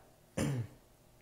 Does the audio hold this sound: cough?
yes